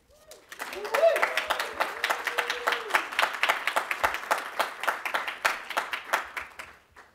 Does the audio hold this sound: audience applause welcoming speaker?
yes